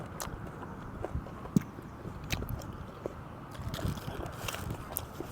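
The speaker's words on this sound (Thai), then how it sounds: "กรุบๆเลยพี่น้อง" Someone chews cockles dipped in spicy seafood sauce close to the mic, making irregular crunchy bites and wet chewing noises over a quiet background.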